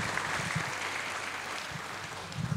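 Audience applause following a lecture on investor learning in the Indian stock market, a moderate, steady wash of clapping from a seated crowd heard at some distance.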